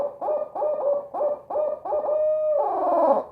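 A Ninja Owl mouth call imitating a barred owl runs through an 8-note hoot, a rhythmic series of five clipped, rising hoots followed by a longer drawn-out, wavering hoot, loud and close with no talking.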